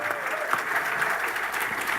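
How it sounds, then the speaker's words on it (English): Steady audience applause at a fiddle contest, many hands clapping continuously at moderate volume throughout, with no break. "So give her a round of applause."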